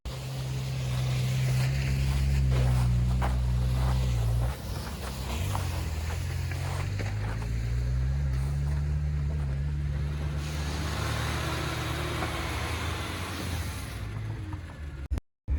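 A Renault 12 car engine strains uphill on an icy, snowy road, a loud, steady low drone with rising and falling revs that runs for the whole stretch before cutting off abruptly at the end.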